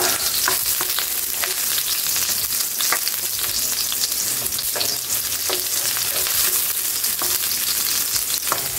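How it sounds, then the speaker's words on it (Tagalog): Red onion frying in a pan gives a loud, constant sizzle, with occasional clicks from stirring throughout and no voices. "Pwede na natin ilagay yung sibuyas. Sibuyas na pula."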